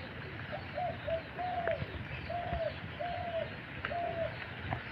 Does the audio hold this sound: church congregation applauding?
no